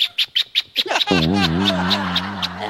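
A person mimics a doorbell with the voice, a quick run of short chirping notes followed by a long warbling tone, close and clear.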